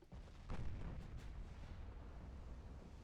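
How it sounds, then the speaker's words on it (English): Naval artillery salvo from warships in Ultimate Admiral Dreadnoughts: a heavy boom lands about half a second in, then a long low rumbling roll carries on steadily to the end with no talk. "There's another salvo."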